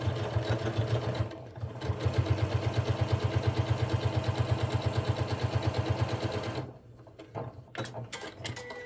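A sewing machine stitches a fabric notebook cover in a fast, even mechanical chatter that runs for about five seconds, then stops and leaves softer handling noises.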